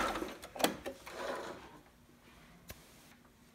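A sewing machine back stitches along a romper bodice seam, a short quiet mechanical whir in the opening second or two, then near silence with a faint click.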